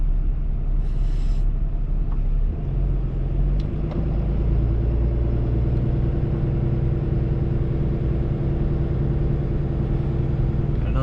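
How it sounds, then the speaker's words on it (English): Ram pickup trucks, including a single-cab, driving around in winter, a steady loud engine rumble throughout with a faint high hiss early on. "Got another truck coming around the side here"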